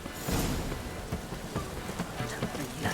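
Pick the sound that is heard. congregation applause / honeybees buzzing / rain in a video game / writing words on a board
rain in a video game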